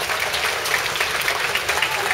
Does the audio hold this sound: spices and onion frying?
no